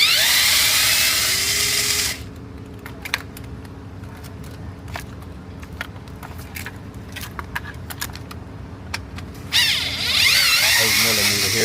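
A power impact gun rattles loose bolts on a 2013 Jeep Grand Cherokee during an oil pressure sensor and filter housing gasket job, giving short sharp bursts over a steady hum with louder stretches at the start and end.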